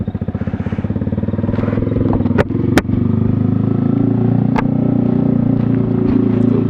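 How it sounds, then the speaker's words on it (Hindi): A Yamaha R15 V3 motorcycle fitted with a Toce aftermarket exhaust idles loudly up close at night with a steady, deep thumping burble, broken by a few sharp clicks and pops. "फर्स्ट टाइम टोस में आपको आवाज़ सुनने मिलेगा, वो भी इतने रात पे। तो स्टार्ट करता हूँ।"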